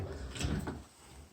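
An apartment door in a small two-unit residential building in Armentières opens with a close, short wooden clunk and rattle, followed by a fading creak, no voices.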